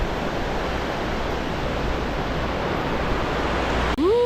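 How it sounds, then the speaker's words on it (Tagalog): Strong river current at Wulai, Taiwan, a dense steady roar of rushing water filling the whole clip, cut by a short rising whistle-like sound just before the end. "Lakas ng agos."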